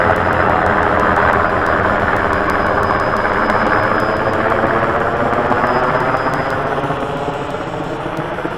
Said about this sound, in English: we have a helicopter getting ready to land